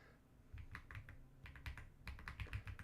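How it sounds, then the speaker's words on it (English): Quiet, close computer keyboard typing: short bursts of keystrokes with brief pauses as names are entered, alone with no talk. "I'm just typing people's names down here"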